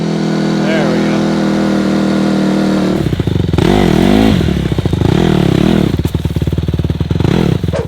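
A 2015 Honda CRF150RB trail motorcycle idles close by: a steady low putter that swells into short revs and falls back to a lumpy idle, with people talking nearby.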